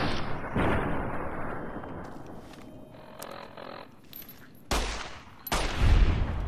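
Gunfire in Fallout: New Vegas, a few loud, close shots with sharp attacks and booming decays separated by short pauses, the last blasts heaviest, no talking.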